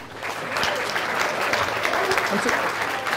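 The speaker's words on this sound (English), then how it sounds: "Clap if you love him." Steady, dense applause from a seminar audience at a motivational talk on success, a continuous wash of many hands clapping at moderate distance, with faint voices underneath.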